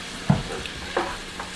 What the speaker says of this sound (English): Got the sizzle going and the steam of brewing.